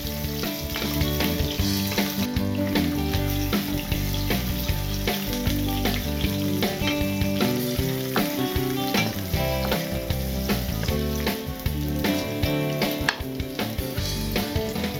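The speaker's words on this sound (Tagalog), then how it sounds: "magpainit na tayo ng mantika at igisa natin ng bahagya ang ating sliced onion." Thinly sliced onions sauté in hot cooking oil, giving a steady, continuous sizzle and crackle under background music, with no talking.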